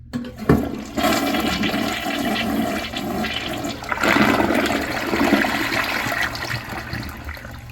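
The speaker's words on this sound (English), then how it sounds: "Let's have a look at a flush." An ADA Mansfield Alto toilet from the 1990s to early 2000s flushes close by, a sharp click followed by a strong, sustained rush and swirl of water that tapers into refilling.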